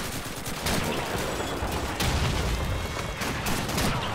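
Steady, dense gunfire rattles through a Call of Duty 2 battle, with a continuous barrage of shots and no clear standout blast from a grenade.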